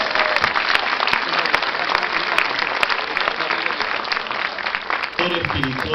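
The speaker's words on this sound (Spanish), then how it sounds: "¡Viva los aplausos, hermanos!" A large crowd at a Catholic religious procession in La Molina claps loudly and continuously, dense rapid applause filling the whole stretch with a few sharper claps standing out.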